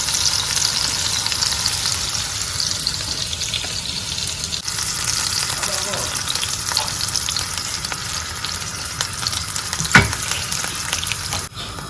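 Pink salmon fries in hot oil in a pan for a Ghanaian aubergine abom, giving a loud, steady crackling sizzle throughout with a sharp clink near the end and no voices.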